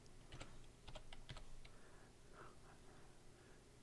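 Keys clatter on a computer keyboard in short bursts, with several distinct taps close by and then quieter soft clicks at a low level, entering a command in the X-Plane 11 flight simulator.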